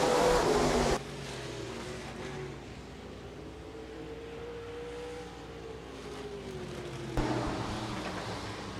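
USRA stock cars in a heat race at Rapid Speedway, engines droning steadily from a distance, with a louder roar swelling at the start and again near the end.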